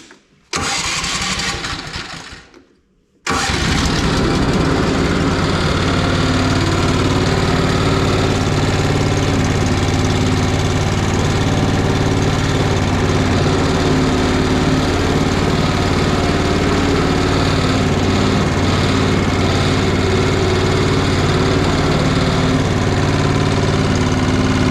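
A Honda HSS snow blower engine cranks briefly, falls quiet for a moment, then catches and settles into a loud, steady idle that runs on without pause.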